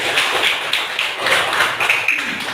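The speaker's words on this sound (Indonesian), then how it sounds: "Oke, tepuk tangan buat teman-teman." A classroom of students claps for classmates after they answer, a dense run of overlapping hand claps at steady moderate loudness for a few seconds, with no voices over it.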